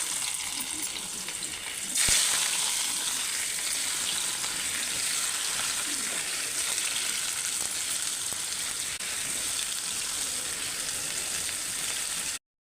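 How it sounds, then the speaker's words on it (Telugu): Bitter gourd pieces hit hot oil with a sudden burst of sizzling about two seconds in, then fry in a dense, even, close hiss with occasional stirring until it cuts off. "మనం ఆయిల్లో కాకరకాయలు వేయించుకుందాం"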